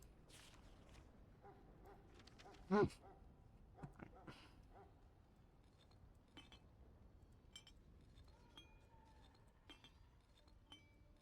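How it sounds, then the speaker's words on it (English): Glassy clinks and chimes from the fantasy video game Dragon Age: Origins, scattered bright tinkling hits with one louder burst early on, over a low background bed. "Everything sounds like glass bottles"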